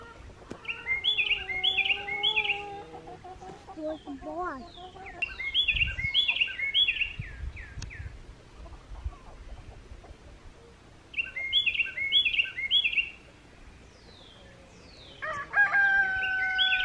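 Birds chirp and a rooster crows on a summer homestead, with repeated bursts of bright song and calls at close range, separated by quieter gaps with scattered rustling and no talking.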